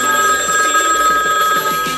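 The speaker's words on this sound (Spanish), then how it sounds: "Teléfono, suena el teléfono." A telephone rings continuously with a bright, steady electronic ring, repeating in a quick pulsing pattern with no voices.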